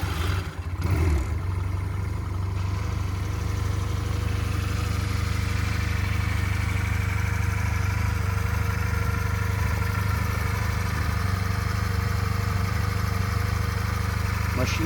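A Euromotors 250 Retro sidecar motorcycle engine starts up close by and settles into a steady, low rumbling idle that continues evenly throughout.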